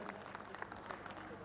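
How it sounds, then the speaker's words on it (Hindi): Students and teachers applaud at an education policy talk, a quiet, dense patter of clapping from a crowd lasting a moment without pause. "विद्यार्थी भी तालियां बजा रहे और शिक्षक भी जो तालियां बजा रहे हैं"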